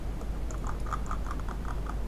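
Keys tapped on a computer keyboard while drafting in Revit software, a steady run of light, even clicks across the whole stretch, close and fairly quiet, with no talking.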